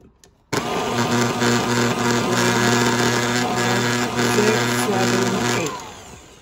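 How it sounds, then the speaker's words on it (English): Electric hand mixer beaters whirring through birthday cake batter for a final mix; the motor kicks on abruptly, runs loud and steady for about five seconds, then winds down and fades. "To get all the flour off the sides, off my beaters before I give a last good mix."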